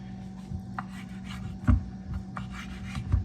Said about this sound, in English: I'm going to come in just like this and cut these into these strips, about like so.